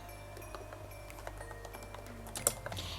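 Quiet keyboard typing of text into the Goodnotes note-taking app, a scatter of soft, close clicks and ticks with a slightly sharper tap near the end, over low steady background hum and no talking.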